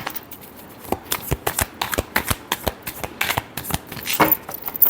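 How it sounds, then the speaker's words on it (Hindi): Tarot cards being shuffled by hand, a quick run of crisp riffling flicks and soft slaps repeating close up, with no talking. "last shuffle"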